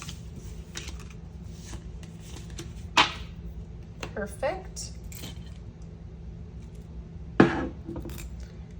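Tiles, charms and astrology dice clink and rattle as they are handled, with a few sharp clicks standing out above a steady low hum, and a voice speaks briefly.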